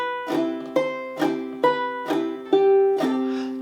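Fingerstyle ukulele chord melody from Sigh Waltz, with chords wedged between the melody notes so strums land on nearly every beat, giving a crowded, busy pattern of bright plucked chords played close without speech.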